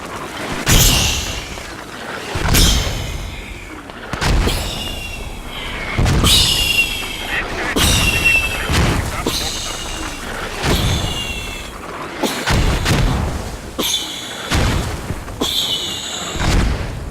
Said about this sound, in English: Accurate mortars.